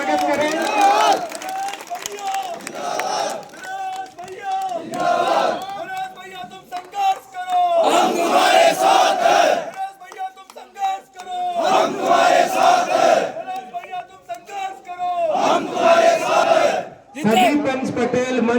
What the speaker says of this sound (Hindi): भाई साहब के लिए एक बार सभी जोरदार ताली बजा के स्वागत करें।